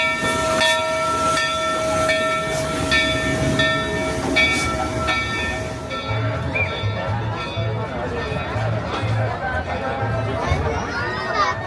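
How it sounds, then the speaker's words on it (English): Train at Knott's Berry Farm rolls along its track with a steady rumble, clanking and hiss, with short bright whistle-like tones early on, heard at moderate distance while people talk nearby. "So the train's back though now, and we're going to be heading on it for the first time in forever"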